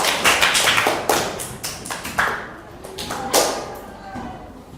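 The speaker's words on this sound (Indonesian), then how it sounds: "Tepuk tangan semuanya." A classroom group clapping, a loose burst of fairly close, uneven claps that thins out and fades over a few seconds.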